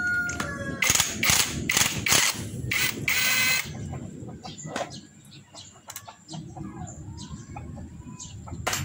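An impact wrench loosens an L-shaped bolt, firing several loud rattling bursts in quick succession, followed by quieter clinks and handling noise.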